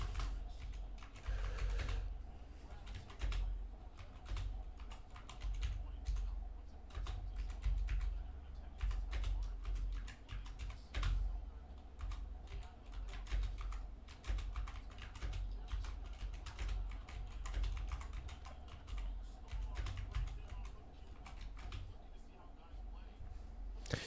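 Continuous rapid keyboard typing runs for the whole stretch, loud and close, with bursts of keystrokes under intermittent talking and background chatter.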